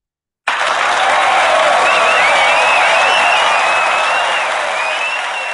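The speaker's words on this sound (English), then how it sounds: "And the crowd goes wild." A large crowd claps and cheers in a loud, steady wash of applause with some whistles, starting abruptly and holding full volume throughout.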